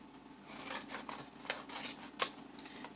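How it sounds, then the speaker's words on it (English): Scissors cut through folded cardboard for a recycled-art chicken craft, giving a few soft, close snips and rubbing sounds at a low level. "So let me go ahead and fold that in half and cut it."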